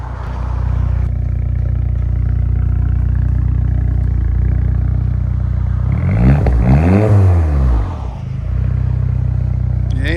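A 2008 Saab 9-3 2.0L turbo with straight-pipe exhaust idles loud and close with a deep rumble, then rises sharply into a single rev and falls back to idle.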